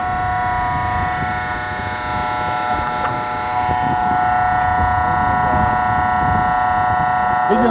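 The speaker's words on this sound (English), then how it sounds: "He's gonna burn that siren up." A vehicle siren sounds as a steady, droning tone that is loud and continuous over background noise for several seconds, with faint sounds of voices underneath.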